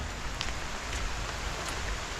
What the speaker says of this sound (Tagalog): Tara, silong muna tayo. Umuulan. Umuulan mga idol.